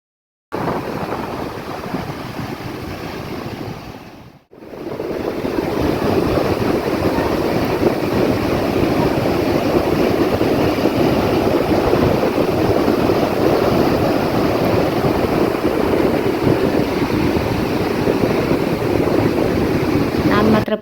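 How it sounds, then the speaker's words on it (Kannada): Big ocean waves roll and crash onto the shore in a steady, loud roar, a continuous wash of surf with wind buffeting the microphone, briefly cutting out near the start. "ಎಷ್ಟೊಂದು ದೊಡ್ಡ ದೊಡ್ಡ ಅಲೆಗಳು ಬರ್ತಿವೆ"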